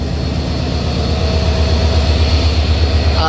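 Locomotive number 6606 on the Padma Express, an intercity train between Rajshahi and Dhaka, rumbles close by with a loud, continuous low drone and a dense mechanical hum that holds steady throughout.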